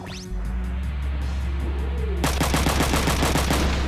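Rapid bursts of mech gunfire from the Front Mission 3 video game crackle in a dense, rhythmic volley over a steady low engine-like drone, loud and close, following a brief quieter lead-in.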